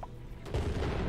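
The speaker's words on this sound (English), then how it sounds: "Meteor shower time." Meteor shower impacts in the colony sim game Oxygen Not Included: a burst of rumbling, booming hits that grows louder about halfway through and continues as dense, overlapping thuds.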